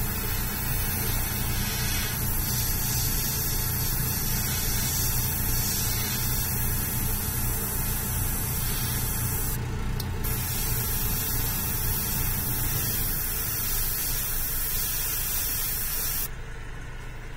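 Constant hissing spray of an airbrush painting a Batman figure over a steady spray booth fan hum, close and continuous for the whole stretch, with no one speaking.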